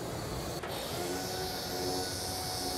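A dust extraction vacuum system runs with a steady, even whooshing hum, continuous and close, with one brief swish near the start and no speech.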